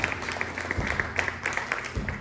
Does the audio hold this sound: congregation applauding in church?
yes